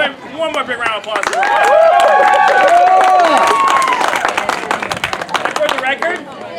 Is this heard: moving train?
no